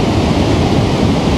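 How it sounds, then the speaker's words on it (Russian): Water roars steadily through the bottom outlet of a dam below a pond in Tirlyan, a loud, dense, unbroken rush heard close up for the whole moment. "вот так вот вода через донник идет"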